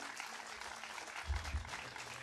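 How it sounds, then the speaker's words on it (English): Crowd applause at an outdoor summer evening concert before an Appalachian bluegrass band plays, a dense steady wash of clapping that swells slightly near the middle and carries on without a break. "Let's give them a round of applause."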